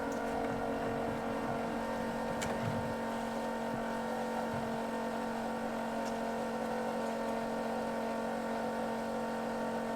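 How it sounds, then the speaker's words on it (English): An excavator engine runs continuously at a steady, loud drone with a constant hum and faint mechanical clatter, with no pauses throughout. "Get a wee spin in the excavator."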